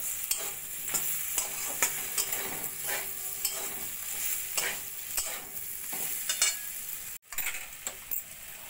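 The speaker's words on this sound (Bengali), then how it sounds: "দিয়ে দেবো অল্প করে একটু মিট মশলা দিয়ে ভালো করে এঁচড়ের সঙ্গে মিশিয়ে নেব" A spoon scrapes and stirs young jackfruit with tomato and meat masala in a gently sizzling pan for a jackfruit pilaf, giving soft, repeated scraping strokes over a low frying hiss, with a brief clatter near the end.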